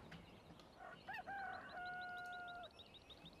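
A rooster crows once in the Farming Simulator 15 video game, a clear drawn-out cock-a-doodle-doo rising then holding steady, heard alone over a steady farm ambience.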